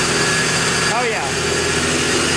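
A supercharged Infiniti G35 engine idles steadily while warming up, a loud close drone with a brief rising whine in the middle.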